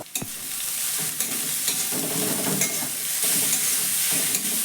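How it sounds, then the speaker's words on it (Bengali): Grated carrot and potato with salt and turmeric are stirred in a hot pan, a continuous sizzle overlaid by repeated scraping strokes of the spoon, close and fairly loud. "লবণ আর হলুদ ভালো করে মেশানো হয়ে গেছে"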